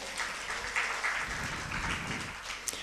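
Church congregation applauding during a sermon, a soft, distant wash of scattered clapping that stays steady and faint throughout with no clear voices.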